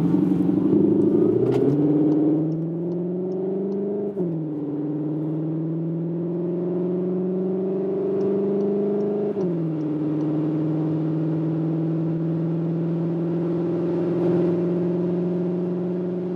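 A CUPRA Leon Sportstourer e-HYBRID accelerating hard on a wet road from about 30 km/h, its engine note climbing steadily through several gear changes, a close, continuous drone with brief dips at each shift and no talk.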